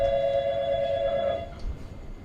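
An in-game telephone at a reception desk in the video game Barsati rings with a steady electronic bell tone for about a second and a half, then fades under faint background noise.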